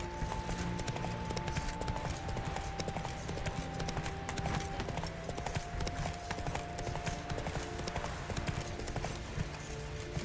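In The Witcher 3, the horse Roach trots with a steady clip-clop of hooves in a regular rhythm, set against game background music, with no voices.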